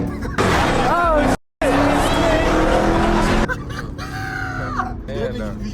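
Jeep Trackhawk driven hard, its loud engine roaring and revving with tire noise and shifting pitch, broken by a brief cut, with voices and shouts over it.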